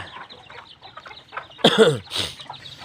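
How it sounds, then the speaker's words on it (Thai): A red junglefowl crows partway through, fairly close, above a quiet background of faint outdoor noise. "มีไก่ป่านั่นนะพี่น้องเลี้ยงไก่ป่ามี2 ตัว"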